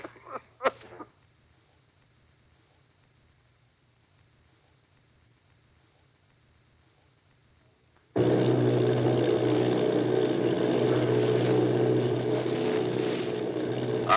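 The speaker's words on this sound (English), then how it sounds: "Army bombing plane" Engines of an army bombing plane in a 1938 radio drama, heard as a steady, loud droning roar that starts abruptly partway through and holds unbroken after a long near-silent stretch.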